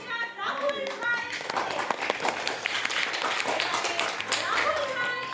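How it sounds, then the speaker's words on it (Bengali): An audience at a stage show for children claps loudly for a first-prize winner. The brisk applause runs throughout, and an announcer's amplified voice and children's voices are heard over it. "জোরে হাততালি হয়ে যাক"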